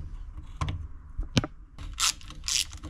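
Screws are slowly tightened on a Yamaha Aerox 70cc scooter engine with a Metrakit Pro Race S2 kit, giving faint, close, intermittent ratcheting clicks and small metallic scrapes in short bursts.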